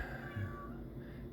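A pet cat named Dusty lets out a single short, whiny meow, fairly quiet and close, in an otherwise still room.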